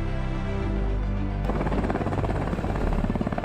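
A UH-60 Black Hawk helicopter making an autonomous takeoff, its steady engine whine suddenly joined by loud, rapid rotor thumping as the blades bite, heard close and without talk.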